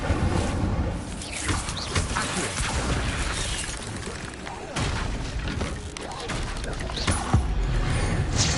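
An Incendio fire spell is cast in Hogwarts Legacy, with repeated whooshing bursts and booms over a dense, continuous bed of game effects and music.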